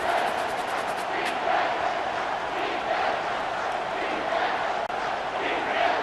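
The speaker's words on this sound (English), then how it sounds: "this crowd is tearing the lid off this place" A packed stadium crowd roars without letup at a college football game, Texas Tech at Texas, a dense, loud, continuous wash of voices filling the whole clip.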